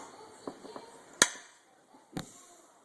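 Light hammer-driven punch taps marking a stainless steel motorcycle exhaust for a Yoshimura system on a Yamaha R6: two sharp, close metallic strikes, one louder than the other, with faint handling noises between.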